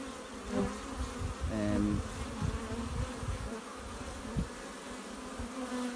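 Honeybees swarming around a hive make a dense, steady buzzing drone that stays close and fairly even throughout, with a few louder passes of individual bees and no talking.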